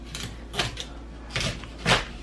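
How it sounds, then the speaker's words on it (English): Knife chopping through freshly washed asparagus on a cutting board in a home kitchen: four distinct crisp cuts spaced unevenly, close and moderately loud, with no voices. "We're going to go ahead and just cut that asparagus down"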